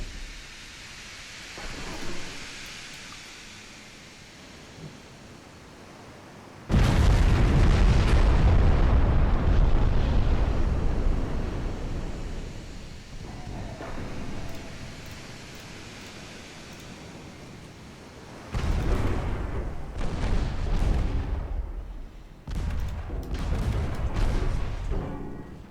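Naval six-inch gunfire and shell hits in a video game battle: heavy booming blasts that swell into long roaring rumbles, loud and sustained, separated by quieter stretches and followed by further rolling bursts.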